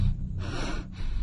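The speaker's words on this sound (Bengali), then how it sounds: "হাঁপাতে হাঁপাতে বুক চেপে বলল" A woman gasps and pants heavily out of breath after running for a train, two or three close, loud breathy bursts alone with no talking.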